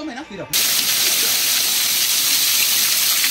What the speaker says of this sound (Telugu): వాటర్ పట్టుకుని రాకపోవడం వల్ల వచ్చి మళ్ళీ జలపాతం నుంచి వాటర్ తాగుతున్నాం